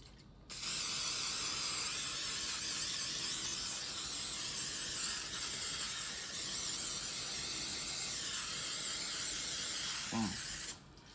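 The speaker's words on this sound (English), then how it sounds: "spray with some vegetable oil so the seasoning can stick" A continuous aerosol spray of vegetable oil onto roast beef hisses for about ten seconds without pause, ending abruptly, with a faint clink near the end.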